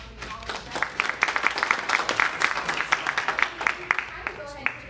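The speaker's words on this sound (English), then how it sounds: "So I just want to give a round of applause for all of that." Audience applause at an entrepreneurs' meetup in Wilmington, a steady patter of many hands clapping in a room for about five seconds, moderately loud with a faint murmur of voices underneath.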